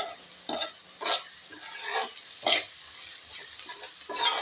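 Onions and masala sauté in oil for a boneless goat head fry, with a soft sizzle under repeated scraping strokes of a spoon in the pan, close up and with no talking.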